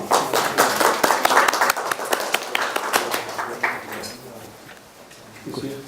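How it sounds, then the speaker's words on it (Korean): Welcoming applause from a forum audience at a climate-change public debate, a burst of scattered hand claps that thins and fades over several seconds before a voice begins near the end. "환영의 박수 좀 부탁드립니다."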